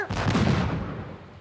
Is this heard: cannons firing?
yes